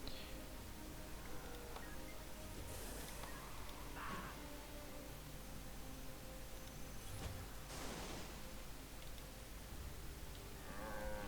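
A cow moos in the video game Guild Wars 2, its low call rising over a steady wash of ambient game noise, with a few brief brighter accents scattered through the scene.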